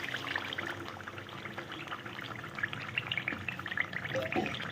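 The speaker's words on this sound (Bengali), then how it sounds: "এবার দিয়ে দেবো ফেটিয়ে রাখা টক দইটা" Thick whipped sour yogurt poured into a cauliflower rezala in a home kitchen pan, giving a soft, steady pouring and gentle liquid trickle that lasts throughout, close and fairly quiet, with no talking.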